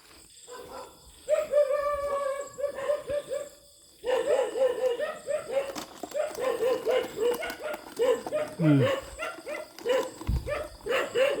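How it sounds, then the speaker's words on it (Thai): A dog barks repeatedly outdoors in a rural forest setting, its barks coming in loud, rapid bursts over several seconds, with a short pause midway and a low thump near the end. "หมาเห่า"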